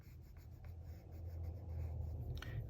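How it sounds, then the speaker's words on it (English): A colored pencil scratches and strokes across a paper card in close, quiet bursts of coloring, growing slightly busier toward the end, with no voices. "I'm just using my colored pencil as a color crayon in this word sweeter,"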